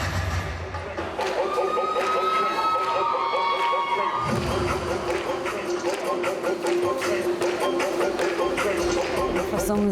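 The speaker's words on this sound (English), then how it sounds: "400 parents all cheering their troupes on" Around 400 parents cheer on majorette dance troupes at a competition, a loud sustained crowd roar with shrill whistles and chanting that swells partway through, with voices talking over it.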